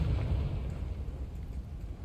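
A deep, rumbling blast from the Confringo blasting spell in the video game Hogwarts Legacy, a heavy low roar that fades slowly across the whole moment.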